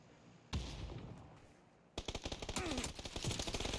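PUBG gunfire: a single loud shot rings out, then after a pause a fast, close burst of automatic fire rattles on for nearly two seconds, with no talk over it.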